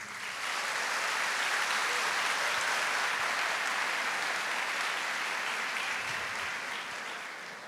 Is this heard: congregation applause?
yes